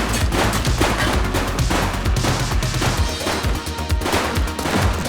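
Rapid bursts of gunfire from The Precinct police game, sharp repeated shots crowding together in a loud, dense fusillade across the whole stretch with crashing impacts mixed in.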